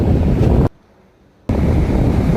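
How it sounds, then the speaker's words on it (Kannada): Rough, heavy sea surf at Someshwar beach near Ullal in the rainy season, a loud continuous roar of waves mixed with wind buffeting the microphone, cutting to near silence for under a second before resuming. "ಸಮುದ್ರದ ಅಲೆಗಳು ತುಂಬ ರಫ್"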